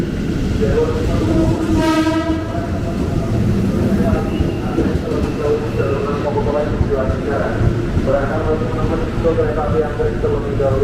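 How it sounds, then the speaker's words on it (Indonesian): A KRL commuter train rolls through busy Bekasi station, with a steady rumble, a brief high horn-like tone, and people talking in the background throughout. "ada komuter yang tujuan Cikarang juga"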